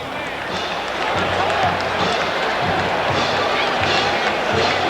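A stadium crowd at a 2000 Washington at Colorado college football game roars and applauds a penalty flag. The dense, steady wash of cheering and clapping continues throughout without a break.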